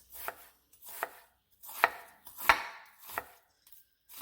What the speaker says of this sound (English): We're just going to go ahead and just cut some strips.